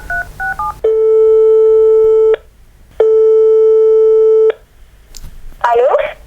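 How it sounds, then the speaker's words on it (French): A phone call being placed: short keypad dialing beeps, then two long, steady ringing tones with a pause between them, and a voice briefly answering at the end. "je vais passer un petit coup de fil"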